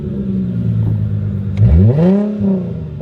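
A modified car engine cranks and catches after sitting unused for a couple of days, then revs up loudly close by in a rising and falling sweep before settling back toward idle.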